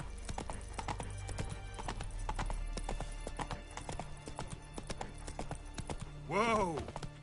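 Roach, the horse in The Witcher video game, clip-clops along in a steady trotting rhythm, close and clear, ending with a short whinny near the end.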